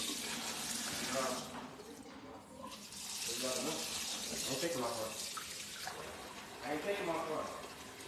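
Tap water runs steadily into a kitchen sink while turkey neck bones are rinsed clean, a continuous splashing wash heard up close beneath a person talking.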